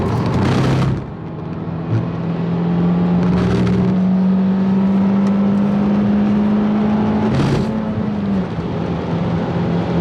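A Peugeot 208 GTI on the track at Donington Park drones loud and close from inside the cabin, its engine note climbing steadily through a long pull, broken by brief gear-change dips.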